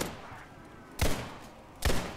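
Two separated bursts of gunfire during a zombie-infection round of Roblox Criminality, each a sharp, loud rattle of rapid shots about a second apart over a quiet background.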